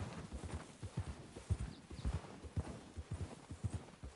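Horse hooves clip-clop steadily in Red Dead Redemption 2, a rhythmic trotting gait of close, moderately loud hoofbeats with no talk over them.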